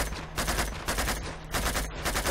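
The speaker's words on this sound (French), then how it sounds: "Ok, c'est qui me tire dessus?" Rapid bursts of gunfire in Uncharted 2 crackle in quick succession, loud and close, as enemies shoot at the player, with no talk.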